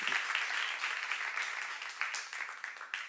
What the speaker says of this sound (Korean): 하나님은 이 약속을 지키시는 분이라고 믿는 사람만 박수 한번 하세요